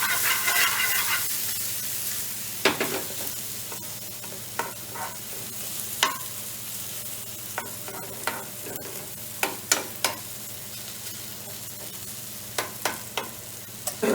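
Onions fry in oil for a chicken bhuna, giving a steady close sizzle with a spatula clinking and scraping the pan in scattered strokes. The pan sounds busy and nearby, with no speech.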